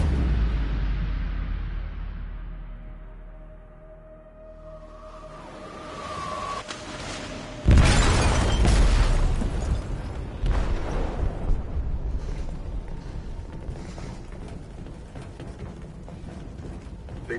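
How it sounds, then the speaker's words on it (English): An explosive detonated in a ship's hold in Detroit: Become Human: a low rumble with creaking metal builds, then a sudden loud blast, followed by sustained crashing, groaning, roaring noise. "They detonated an explosive in the hold."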